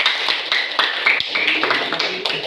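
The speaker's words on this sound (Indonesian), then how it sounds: "Oke, tepuk tangan untuk kelompok 5." Students in a school classroom clapping for a group that just presented, a quick run of close, sharp hand claps, fairly loud and steady, with no voices over them.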